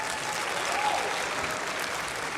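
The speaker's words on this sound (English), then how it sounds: "A big and a wild round of applause for the Jack Ma Foundation." An audience at the 2025 Africa's Business Heroes grand finale breaks into a brief, steady burst of clapping, a dense even patter filling the moment.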